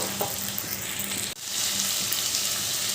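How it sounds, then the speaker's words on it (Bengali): A little water from a rinsed spice bowl poured into a frying pan of spiced vegetables, a steady close hiss and sizzle with a short break in the middle, then frying that carries on loudly. "মশলা ধোয়া বাটিটা ধুয়ে একটু জল যাতে তলায় না লেগে যায়"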